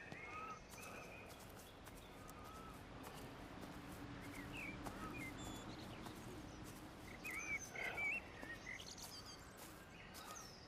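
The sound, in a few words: birds chirping in the video game Everybody's Gone to the Rapture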